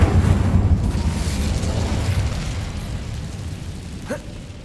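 Incendio fire spell cast in Hogwarts Legacy, a loud rushing whoosh of flame with a deep rumbling roar that slowly fades, ending in a brief sharp crackle.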